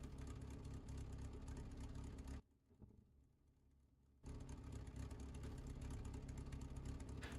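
Race car engines in the iRacing Arcade video game, a loud continuous droning roar that drops away briefly to a low rumble before surging back at full volume.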